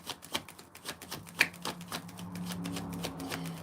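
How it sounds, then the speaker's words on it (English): A deck of tarot cards shuffled by hand: a faint, close run of soft riffling and tapping flutters with uneven rhythm, settling into a quieter continuous rustle toward the end. "I'm going to shuffle one more time with this deck"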